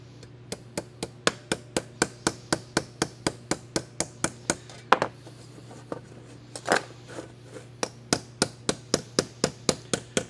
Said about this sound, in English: small strikes with a light hammer is just what you're looking for